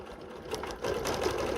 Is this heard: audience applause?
no